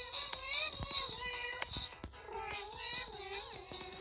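A cat character in the Roblox video game gives a series of clear, repeated meows at moderate level, close and fairly continuous, with brief clicks between them.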